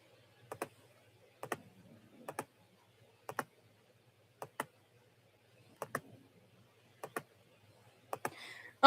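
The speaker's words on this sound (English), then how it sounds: "I really am sorry for the clicking noise of my keyboard." A computer mouse clicks on a mouse pad, close and quiet, in sharp paired clicks repeating at irregular intervals of roughly a second, with no talking.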